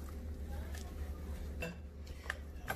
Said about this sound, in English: So I'm going to mix the batter until it's even